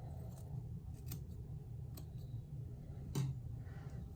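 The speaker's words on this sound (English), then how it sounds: "for once I'm cutting on wet hair" Scissors snip through wet hair during a wolf cut, a few quiet, crisp clicks spaced irregularly against a soft, faint background with no speech.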